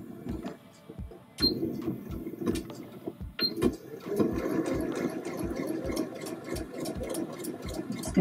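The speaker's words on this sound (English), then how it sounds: "and start sewing." A sewing machine stitches elastic cuffs onto pants, with bursts of rhythmic needle thumping and mechanical clicks, close up, stopping and restarting with brief pauses.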